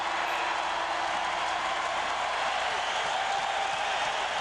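Hockey arena crowd roaring and cheering as the first period ends in a Red Wings versus San Jose playoff game, a dense, steady wash of noise filling the building without pause.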